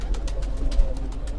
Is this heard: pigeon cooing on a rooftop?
yes